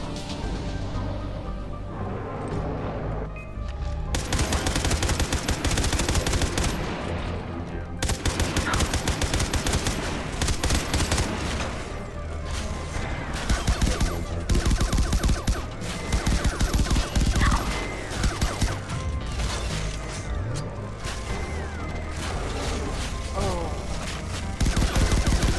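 Video game gunfire rattles in dense, loud bursts of rapid shots and explosions throughout, nearly continuous with only short gaps, with a voice faintly under the barrage.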